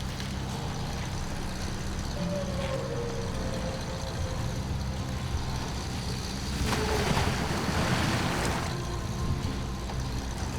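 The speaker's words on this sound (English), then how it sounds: "Sound like a splish splash." A truck drives through a puddle in the SnowRunner video game, giving a steady engine and water rush with a louder, brief splashing surge near the end and no speech.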